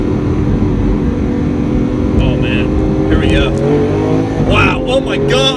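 Lamborghini Aventador SV engine under way, a loud, steady low drone heard from inside the car with a slight rise in pitch, while a person's voice comes and goes over it.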